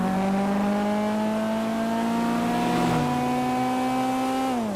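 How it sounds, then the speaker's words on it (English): A small Honda-style street race car engine in a racing video game, revving high and steady with a strong harmonic drone that dips slightly near the end, heard alone and close. "Proper Honda style sounding engine on this one."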